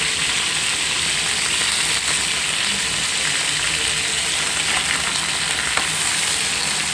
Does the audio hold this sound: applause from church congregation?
no